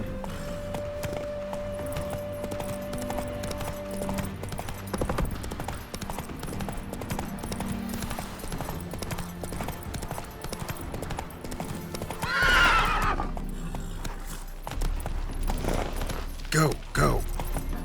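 Roach, a horse in The Witcher 3 on PS5, clip-clops at a steady gallop through the scene, with a sharp neigh and whinny breaking out near the end over music and game sounds.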